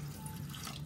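Tap water running steadily into a container while preparing a recipe with a kitchen robot in a home kitchen, a soft continuous splashing stream, faint and unbroken, with no talking.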